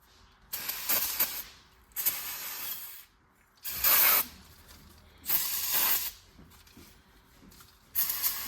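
Brake cleaner blasted from an aerosol can onto driveshaft parts of a 1969 Mercury Cougar XR7 Convertible, five loud hissing bursts of about a second each, separated by short pauses with faint clicks between them.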